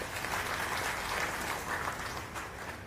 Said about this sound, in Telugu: నాతో సమ్మతించే వాళ్ళు గట్టిగా చప్పట్లు కొట్టొచ్చు